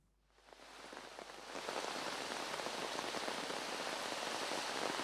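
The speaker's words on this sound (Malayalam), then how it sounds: "മഴ കനത്ത മഴയാണെന്ന് മനസ്സിലാക്കാൻ കഴിയുന്നുണ്ട്" Heavy rain pouring down in Ernakulam, swelling from quiet to a dense, steady roar of drops on surfaces that fills the scene without a break.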